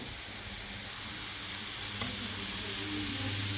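Pork belly sizzling on a grill at a Korean barbecue restaurant, a loud continuous crackling hiss of fat frying close up, steady and unbroken for the whole few seconds.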